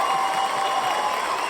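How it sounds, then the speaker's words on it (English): A studio audience cheers and applauds for a guest on a talk show, a dense, steady wash of clapping and crowd noise holding level throughout the brief moment with no talking. "you should be hearing some cheering"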